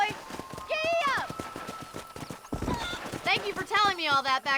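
A horse in Red Dead Redemption gallops with a rapid clip-clop of hooves and gives loud whinnying neighs, while someone talks over the hoofbeats.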